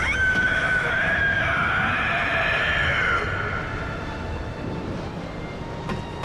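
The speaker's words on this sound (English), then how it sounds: "I climb a ladder where I hear my first of many boss screams" A boss lets out a long, high, wavering scream in the dark video game Bloodborne, distant and eerie, slowly fading under a low rumbling ambience.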